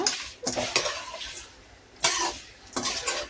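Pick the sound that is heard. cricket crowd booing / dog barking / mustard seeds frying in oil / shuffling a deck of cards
mustard seeds frying in oil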